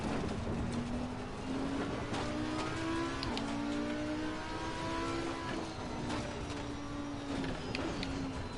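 Racing kart engine droning steadily during a two-hour endurance race at Bathurst, a close, continuous buzzing whine that rises and falls in pitch as it revs through corners.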